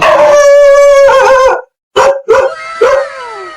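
A dog howls in a long drawn-out wail close by in a village, followed by a few shorter yelping barks.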